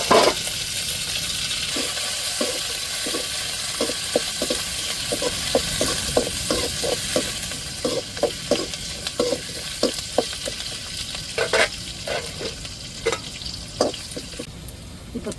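Onion and curry leaves crackle in hot oil with mustard seeds, a loud continuous sizzle broken by frequent sharp pops and spatters, close up with no voices.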